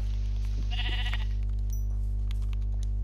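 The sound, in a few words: sheep bleating in Minecraft video game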